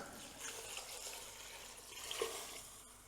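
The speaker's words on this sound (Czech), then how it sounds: "Zalijeme to vodou." Water is poured over vegetables in a cooking pot for kichri, giving a faint, continuous splashing and trickling with no speech.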